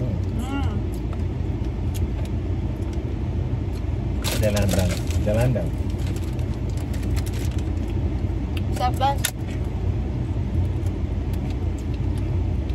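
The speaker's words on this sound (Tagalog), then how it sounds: "Traffic na naman." Road traffic drones on as a constant loud rumble, heard from inside a car, with people talking over it throughout.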